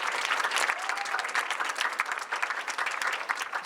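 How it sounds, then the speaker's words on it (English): An audience at a women's entrepreneurship awards event applauds steadily, dense continuous clapping filling the room throughout without a break. "So let's give her a round of applause"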